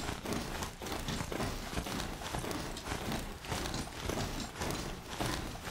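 Riding-mount hoofbeats in the video game Horizon Zero Dawn, a quick, regular clip-clop of galloping steps that stays close and fairly quiet, with no talking.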